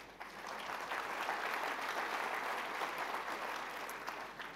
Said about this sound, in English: So another round of applause for all of you.